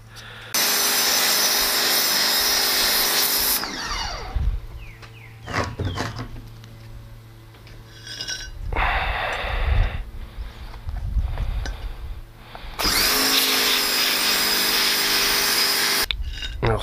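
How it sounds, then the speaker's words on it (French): A Kärcher pressure washer rinses paint off a surface in two long, loud, hissing bursts at the start and end, with quieter clattering and handling noises in between. "quand on rince au Karcher"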